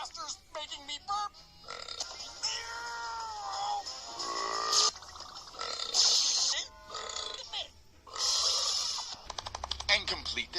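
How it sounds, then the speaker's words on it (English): Repeated burps mixed with cat-like meows and cartoonish effects in a busy, close sequence, with voices talking between the sounds. "Master's making me burp."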